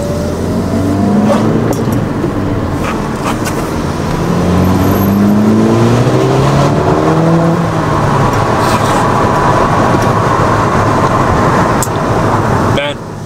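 A 2008 Volkswagen MK5 GTI engine drones loudly and steadily while driving with the window down, its pitch rising and falling through the gears under heavy wind and road noise.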